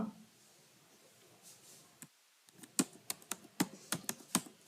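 Typing on a computer keyboard during a coding lesson, a quick irregular run of close, crisp key clicks starting after a brief hush, moderately loud and alone without talk.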